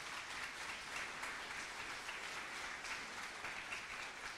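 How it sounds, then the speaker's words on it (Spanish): Church congregation applauding during a Spanish-language sermon, a dense, continuous wash of many hands clapping at once, steady and fairly distant, with no single claps standing out. "denles aplauso al Señor por eso"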